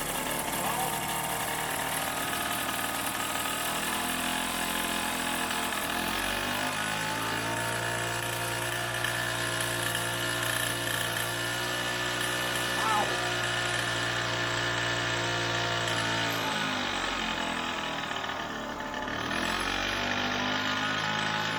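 A Velo Solex 5000 moped engine, long unused, sputters to life indoors and settles into a steady, buzzy running drone that holds near and loud, with a brief dip near the end before picking back up.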